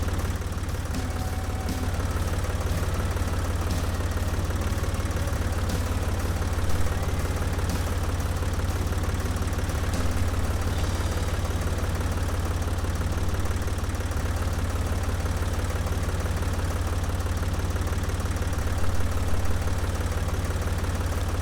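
A tractor engine idles in the farming game Professional Farmer 2014, a steady, loud, unchanging low rumble with faint mechanical ticking throughout and no talk.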